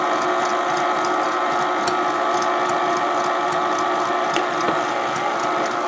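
A stand mixer running on its stir setting, beating butter, sugar, cocoa, vanilla and milk into chocolate icing for a birthday cake, gives a steady mechanical whir with a faint rhythmic clatter, close and continuous throughout without speech.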